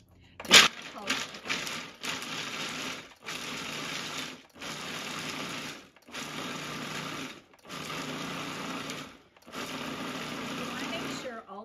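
A food processor pulses cashews, whole wheat pastry flour and salt into a crumbly pie crust, giving a series of about eight loud whirring bursts separated by short pauses, after a brief clatter at the start.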